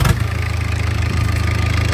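A Perkins diesel engine in a Mazda B2200 mini truck catches with a brief burst and settles into a loud, steady, rough idle close by, with a deep throbbing rumble.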